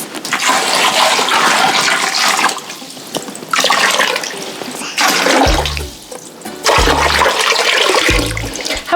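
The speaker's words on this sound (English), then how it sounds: "the pouring of the water in the bin is like its own activity" Water poured in repeated bursts into a bin during a float-and-sink activity, a loud gushing, splashing pour that stops and restarts several times, with low thumps as the bin is handled.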